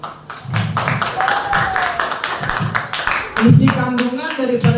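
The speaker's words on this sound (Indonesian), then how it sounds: "tepuk tangan" Applause from a group of people clapping hands in a classroom-like gathering, a dense run of close, sharp claps lasting throughout, with voices speaking and calling out over it.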